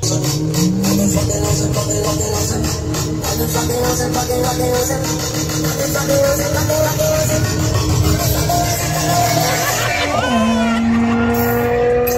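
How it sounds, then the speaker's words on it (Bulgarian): Car tyres spin and squeal outdoors under a loud, revving engine, a continuous harsh roar for about twelve seconds with the pitch shifting upward toward the end. "Въртеж на гуми!"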